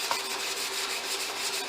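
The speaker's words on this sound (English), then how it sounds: "do a real quick sanding on the edges and the sides" Sandpaper rubbing back and forth along the edges and sides of a wooden valet tray, a steady, quiet rasping friction that runs continuously without a break.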